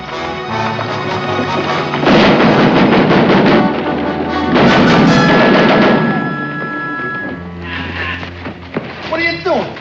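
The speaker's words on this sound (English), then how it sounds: "It's a battery. Battery of rifles." A battery of rifles fires a volley, heavy booming blasts in two rolling waves, loud and close, with a voice speaking over parts of the noise.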